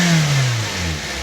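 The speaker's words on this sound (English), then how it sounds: "It revs so much nicer than it used to." A Nissan SR20 turbo engine in a $500 car, run through its cable throttle, revs hard up close and then falls away with a falling whine as it settles back down.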